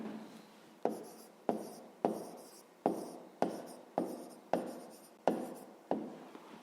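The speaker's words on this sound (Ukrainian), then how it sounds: "Записуємо тоді відповідь. Пишемо відповідь." Handwriting strokes of a fifth-grade math exercise answer being written out, close and distinct, as a series of about ten sharp scratching strokes at a steady rhythm, each starting with a crisp attack and fading, with no talking.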